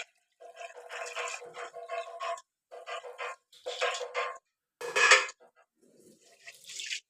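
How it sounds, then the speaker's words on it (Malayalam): Raw rice is swished and rinsed in water in a vessel, with bursts of wet sloshing and grainy rattling separated by short silences, close and fairly quiet. "അപ്പോൾ ഞാൻ ഈ പച്ചരി നന്നായിട്ടൊന്ന് കഴുകിയെടുത്തിട്ട് വരാം."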